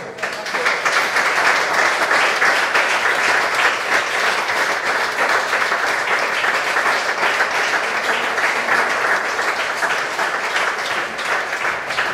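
Loud, sustained applause from a theatre audience welcoming a storyteller to the stage, thick even clapping for about twelve seconds with only slight dips and no speech.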